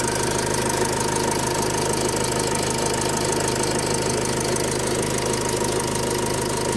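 A van engine idles steadily under inspection, its constant mechanical drone carrying a fast rhythmic knocking, close and continuous with no talk.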